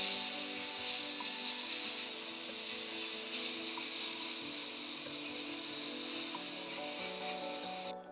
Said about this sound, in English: I'm not quite sure if sandblasting is safe for plastic or not